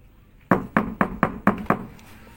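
Six sharp knocks on a door in an even, brisk rhythm, close and fairly loud, followed by quiet.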